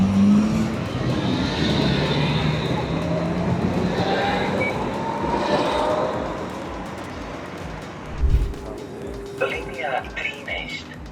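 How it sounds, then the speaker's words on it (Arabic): Steady rumble and rolling hum of a spacious modern tram running through a Croatian city, carrying on for several seconds before a short thump and lighter clatter near the end, with voices talking over it. "انا في الترام، تحفة جدا، واسع"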